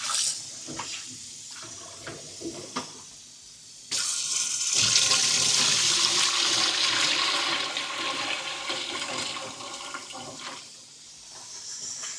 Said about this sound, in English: If you so in here, wash your fish.